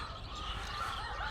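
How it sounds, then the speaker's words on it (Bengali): Parent stock chickens on a poultry farm and hatchery call in winter, a faint, continuous murmur of many clucking birds heard at some distance. "মুরগিগুলো অনেক ডাকাডাকি করতেছে।"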